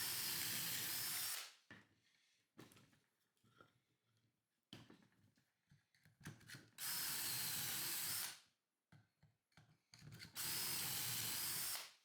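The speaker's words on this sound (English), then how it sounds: "Add pocket holes to all the 1x4s and all of the 10 and 3/4 inch 2x2s" A power drill bores pocket holes into 1x4 pine boards in three long, loud whirring bursts, separated by quieter handling clatter and knocks as the boards are repositioned.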